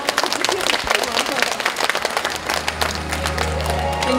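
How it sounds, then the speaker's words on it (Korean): An audience at a lunchtime concert gives a burst of lively, crackling applause, close and full, which thins as a low sustained musical tone enters and carries on beneath it. "큰 박수 부탁드립니다"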